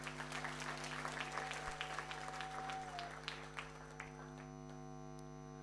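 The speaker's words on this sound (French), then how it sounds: "Applaudissez pour eux, s'il vous plaît" An audience applauds at a French-speaking gathering: dense, sustained clapping over a constant electrical mains hum, gradually thinning out and stopping about four seconds in, leaving only the hum.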